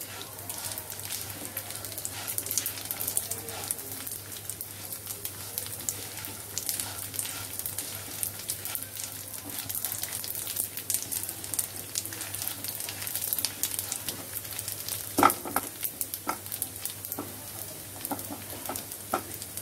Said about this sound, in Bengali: খুব ভালো করে এই ডালটা আর চালটা ভাজতে হবে।